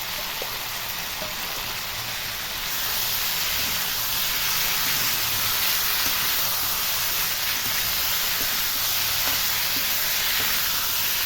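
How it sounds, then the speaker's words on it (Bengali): Vegetables sizzling in a hot pan for Bengali shukto while ground spice paste is stirred in, a dense steady hiss that swells slightly after a few seconds and continues loud and unbroken, with no talk. "এবার আমি একসাথে মশলা দিয়ে আবার একটু নেড়ে চেড়ে নেব"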